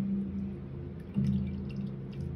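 Steel cut oat milk strained from soaked oats, liquid dripping and trickling steadily into a container nearby, with a steady low hum underneath and a brief splashy surge midway.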